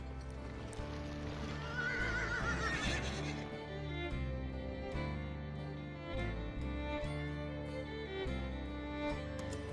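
A horse in the video game GUN neighs and whinnies over clip-clopping hooves and trampling, set against a loud, continuous musical score.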